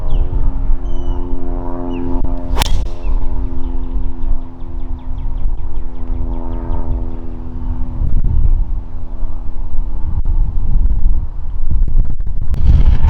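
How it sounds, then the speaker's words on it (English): Stiff headwind buffeting the microphone on a golf course at Kiawah Island's Cassique course, a steady low rumble of gusts with a faint engine-like drone and a sharp impact near the start. "We do have a pretty stiff headwind now"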